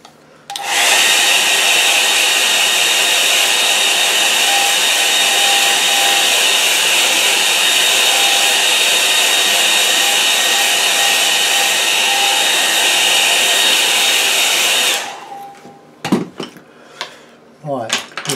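A hair dryer blowing on a watercolour painting of trees and a barn: a loud, steady whirring roar that runs about fourteen seconds, then switches off and leaves a few light clatters and handling noises.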